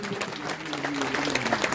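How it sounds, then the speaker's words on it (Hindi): Applause for Rajeram at a Bhagavat Katha gathering, a steady wash of crowd clapping that fills the short moment, with a voice carrying faintly underneath. "तो राजेराम के लिए जोरदार तालियां।"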